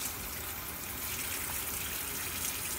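Steady running water rinsing freshly peeled cinnamon bark, a constant close hiss and gush with no pauses and no voices.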